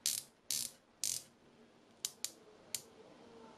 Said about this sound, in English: Let's try the bezel. Ooh, the bezel is really nice and snappy.